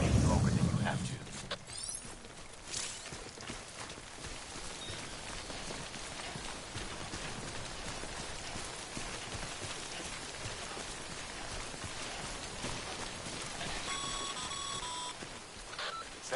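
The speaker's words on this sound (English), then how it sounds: "Don't stay out in the rain any longer than you have to." Steady rain pours in the video game Death Stranding, a continuous hiss running through the whole stretch with a few electronic beeps near the end and a soft low thump at the start.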